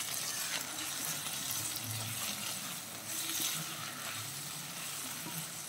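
Pepper chicken fries in a pan while it is stirred, giving a steady close sizzle with faint scraping throughout.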